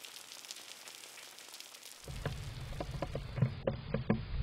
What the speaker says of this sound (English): After weeks of hot, dry weather, the rain came pouring down.